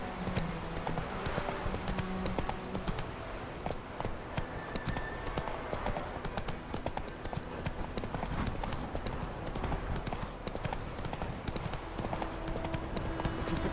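Roach, the horse in The Witcher 3: Wild Hunt, walks with an unbroken run of hollow clip-clopping hoofbeats, loud and close, going on evenly from start to end.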